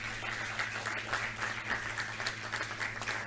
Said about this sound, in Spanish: Por favor, les pido un aplauso para todos nuestros panelistas.